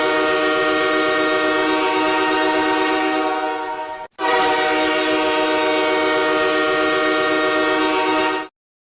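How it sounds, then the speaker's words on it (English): Train horns blow in two long, loud, sustained chords, the first cut off abruptly before the second sounds for about four more seconds, with no talk over them. "Those train horns get me riled up."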